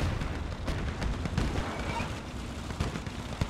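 Enemy gunfire in the WWII tank game OstFront crackles and booms continuously, dense shots and artillery-like thumps overlapping in a busy battlefield din.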